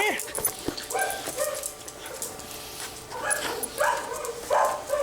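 A dog named Casey with a badly damaged leg bone whimpers and yips at a veterinary ranch before surgery, giving several short, fairly close high cries in bursts while people talk nearby.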